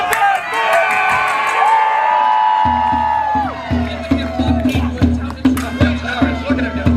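Outdoor crowd at a human chess match at a Renaissance faire, whooping and cheering loudly over several seconds, with shouts and repeated thumping claps or drumbeats joining midway.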